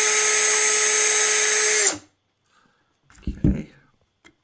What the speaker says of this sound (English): use the drill bit itself to try to cut a little